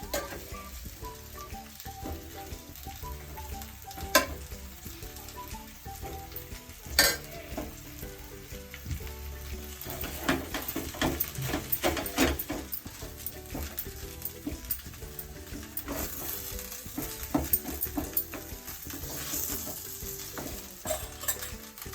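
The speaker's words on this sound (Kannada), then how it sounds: "ಈಗ ಅನ್ನ ಹಾಕಿ ಇದಕ್ಕೆ ಗೊಜ್ಜಿಗೆ ಕಲಿಸ್ತೀನಿ." Cooked rice being stirred into vangibath gojju in a hot pan, with soft sizzling and repeated scraping and stirring strokes close by, no talking.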